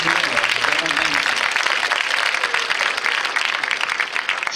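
A cinema audience at a film preview screening applauds the production, sustained crowd clapping throughout with a voice speaking faintly beneath it at the start.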